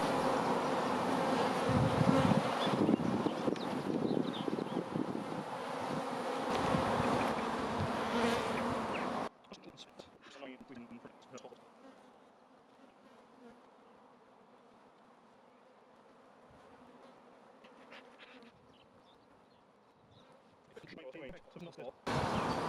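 Dense honeybee buzzing around a hive during a Bailey comb exchange fills the air, loud and close at first, then quieter and more distant with scattered individual bees droning nearby.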